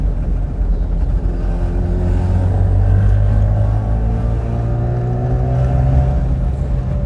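A 1974 Daihatsu Fellow Max kei car with a two-stroke engine drives along, and its steady engine drone and road noise run loud and close from start to finish, with no voices over it.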